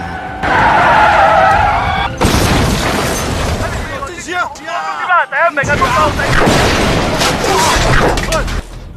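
A truck with engine failure crashes into a house in a film scene: a loud skidding screech, heavy booming impacts and scraping debris, with a sudden drop to near silence midway before crashing noise resumes.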